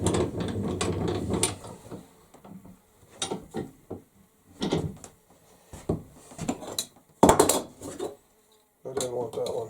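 A hand tool shaves down the shoulder of a 40-inch wooden tool handle in repeated rasping, ratchety strokes, coming in uneven bursts with short pauses between them, close and fairly loud.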